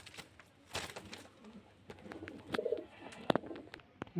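Domestic pigeons, including single steel-coloured and milk-white males, coo in low, throaty bursts at close range, joined by scattered soft chirps and a few sharp knocks.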